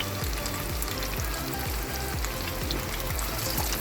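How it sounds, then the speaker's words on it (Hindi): Rice and potato cutlets frying in a pan of oil give a steady, dense sizzle and crackle with a low bubbling pulse underneath, continuous and close, no talking. "अब ये हल्के हल्के से फ्राई होती जाएंगी।"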